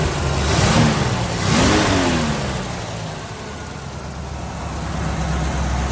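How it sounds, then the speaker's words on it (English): A 1964 Impala SS clone's small-block V8 rumbles at a steady, close idle, with two quick revs rising and falling early on before it settles back into a loud idle. "the engine seems to run real good."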